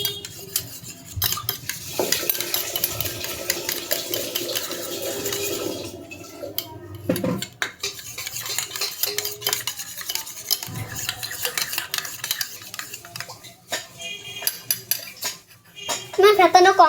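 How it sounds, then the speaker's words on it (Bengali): A mixture is beaten in a bowl with rapid, continuous whisking strokes that clink against the sides, with pauses and brief voices in between. "তখন আমি ফেটিয়ে দিলাম, ফেটানো আমার হচ্ছে"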